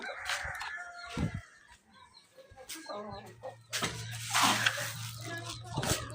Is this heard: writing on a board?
no